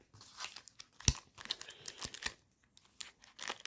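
Pokémon card booster packs, Basic and 25th anniversary edition, being torn open by hand: a quiet run of crinkly foil rips and crunches in irregular bursts, close up with no talk.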